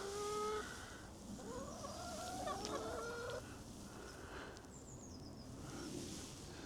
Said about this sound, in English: Fucking chickens, boy.